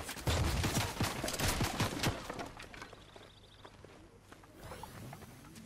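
Rapid bursts of gunfire from a Fortnite match on PS5 crackle densely at first, then thin into scattered shots with light background movement and no talk.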